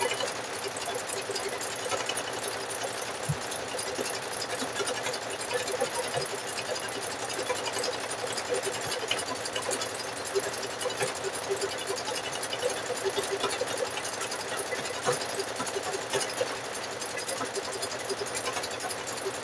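A sewing machine stitches a double blanket stitch down the middle of a fabric-wrapped rope bowl, a steady dense whir that runs without a break for the whole stretch at an even, moderate level.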